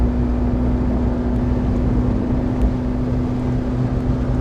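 An open 2015 McLaren 650S Spider convertible cruises in normal mode, with a dense, steady rush of wind noise over a low engine hum.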